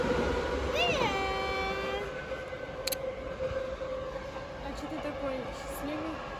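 A crowded passenger train at a station, with rising and falling electric tones and a pitched whine as it moves, steady rumble beneath, and brief talk nearby.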